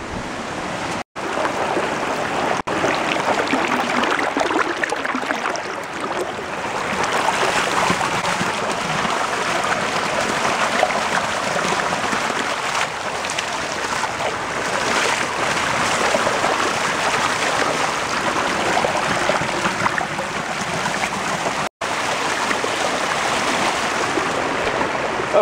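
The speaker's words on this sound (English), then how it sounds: "Stopping down here by the river to make a little water" A river stream along the Foothills Trail rushes loudly and continuously nearby while hikers rest at its edge, a dense, unbroken wash of flowing water with no speech.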